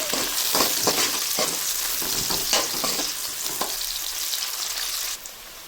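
Sliced onion and green chillies fry in a pan for a Telangana-style fish curry, a loud close sizzle broken by repeated scraping stirs, then settling to a steadier crackle, with no talking.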